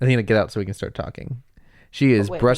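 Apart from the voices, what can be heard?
No distinct noise like a dog, phone or traffic.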